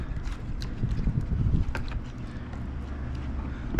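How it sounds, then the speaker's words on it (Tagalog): Strong wind rumbles and buffets the microphone continuously, with low roaring gusts and faint clattering in the background. "Lakas ng hangin."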